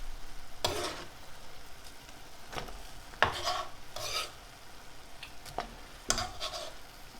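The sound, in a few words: tomatoes added to mussels sizzling in butter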